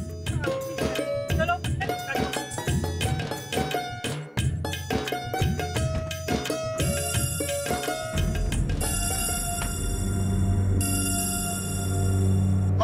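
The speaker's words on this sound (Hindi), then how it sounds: "चलो किसका फोन आ गया?" A phone ringing with a repeating electronic ringtone, loud and sustained, heard over background music in a domestic drama scene.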